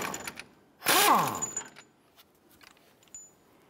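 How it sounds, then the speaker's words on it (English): Brief mechanical clatter of a 1-inch socket ratchet working a jam nut on a 2011-2018 Ram 1500 tie rod, one loud burst followed by faint scattered clicks and light metal taps. "We're going to use a 1-inch socket to go ahead and remove our jam"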